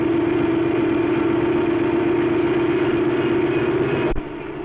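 A railway diesel engine running in at a steady 500 rpm on a factory test bench, a constant loud hum with an even low throb that drops abruptly in level just before the end.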